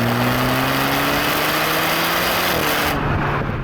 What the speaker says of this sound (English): when I put my foot down, the car sounds like a cat